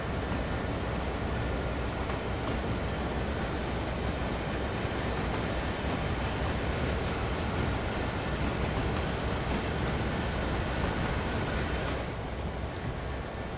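Long freight train hauled by an SD40-2 diesel locomotive in Train Sim World 4, about twenty cars, a steady dense rumble and rolling rail noise that continues evenly throughout, loud and close with no talk.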